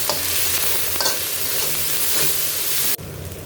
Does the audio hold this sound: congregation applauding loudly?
no